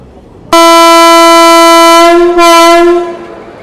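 The Janmabhoomi Express, train 12805, sounds a loud, rich-toned horn as it departs, one long blast of about two seconds, a brief dip, then a second shorter blast that fades out, very close and alone.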